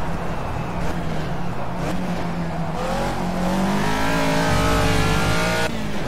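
Caterham Super Seven racing at Snetterton in Project CARS, braking hard: a loud, close engine note drops in pitch as the car slows, with tire noise underneath and no talk.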